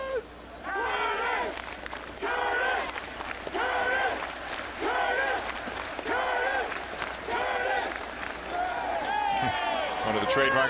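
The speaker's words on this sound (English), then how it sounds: "The crowd noise picks up." A Yankee Stadium baseball crowd roars in repeated swelling waves of cheers and shouts, loud and fairly close, rising and falling about every second or two throughout.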